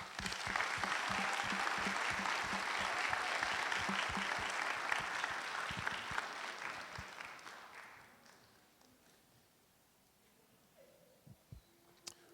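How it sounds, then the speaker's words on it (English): A graduation audience applauds loudly for about eight seconds, the clapping fading to near silence, with a few faint knocks and shuffles afterward. "Let's give her another round of applause."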